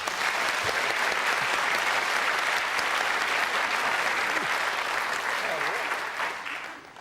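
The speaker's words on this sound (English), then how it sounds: "Give me a round of applause." Studio audience applause on the Blankety Blank game show, loud continuous clapping from a packed crowd that holds steady throughout and begins fading near the end.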